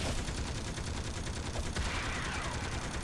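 A villain fires at the player in the City of Heroes video game, a dense burst of rapid gunfire crackling steadily for about three seconds over a busy game soundscape.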